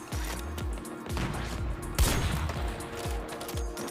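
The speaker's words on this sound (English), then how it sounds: "Somebody just took a shot at me." Rapid video game gunfire, with repeated loud bursts of shots and heavy thumping impacts in quick succession, close and dense throughout.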